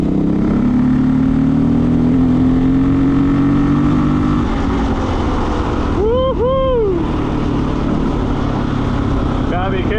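A Honda XR400 dual-sport motorcycle drones steadily in gear at low revs while riding, its engine tone rising gently and then shifting, with a brief rising and falling whine midway and a loud, continuous engine bed throughout.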